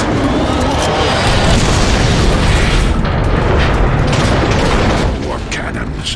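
Heavy cannon fire rumbles through a battle in the video game Transformers: Fall of Cybertron, a loud, dense, continuous roar of booms and mechanical noise that eases off near the end.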